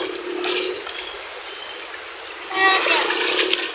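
Floodwater pours and splashes into a house during a flood, a steady rushing with spattering bursts that swell louder near the end, under a voice talking.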